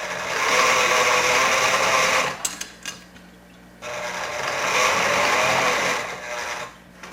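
A sewing machine runs two long bursts of stitching, each a steady whir lasting a couple of seconds, as a line of basting goes in for a zipper fly front. A short quiet gap separates the bursts, and no one speaks.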